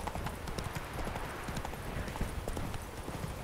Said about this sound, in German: Ich glaube, dann reiten wir vielleicht mal so ein bisschen den Berg hier rum.